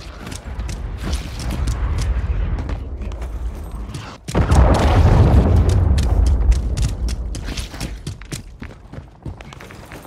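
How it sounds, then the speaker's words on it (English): A cruise missile explodes in Call of Duty Modern Warfare 3 multiplayer: a loud sudden boom midway with a long rumbling tail over ongoing mechanical clatter and creaks of game action. "Hostile cruise missile incoming."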